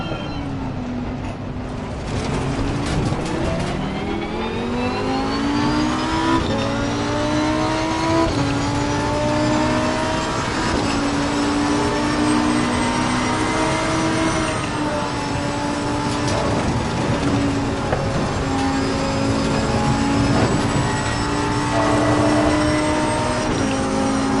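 Race car engines in the racing game Assetto Corsa Competizione, a loud continuous engine drone that climbs in pitch through the gears, with overlapping cars close behind, no talk.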